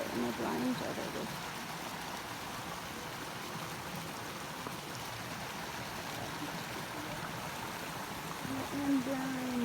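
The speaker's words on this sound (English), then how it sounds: "And here's the river." River water flowing steadily outdoors, a continuous broadband rush with a few faint tonal sounds over it, moderately close and unchanging throughout.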